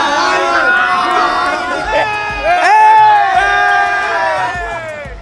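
A crowd of young people at a political gathering screams, whoops and shouts together in a loud, continuous roar, with several shrill voices rising above the mass and loud cheering swelling in the middle.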